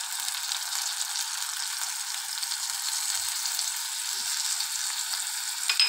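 An egg omelette with tomato fries in a pan, producing a steady, bright sizzle, close and uninterrupted, with a slight rise at the very end.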